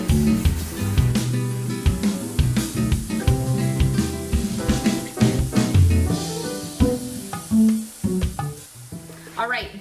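Tiger nut and pumpkin gnocchi frying in oil in a pan, a steady close sizzle with crackling pops and occasional scraping stirs running throughout, loud and continuous with no voices over it.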